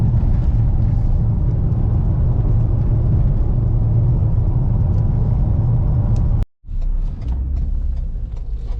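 A 2017 Ford Explorer Police Interceptor engine pulling hard, a steady loud low rumble from inside the vehicle that cuts out abruptly for a moment, then resumes as a lower drone.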